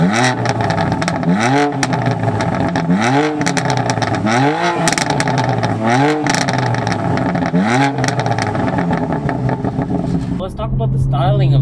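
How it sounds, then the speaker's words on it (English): An F82 BMW M4 Competition revving hard again and again, its exhaust popping and crackling through each climb and drop, loud and close, with speech mixed in. "You could just rev it up all the way and it'll just pop the whole way through."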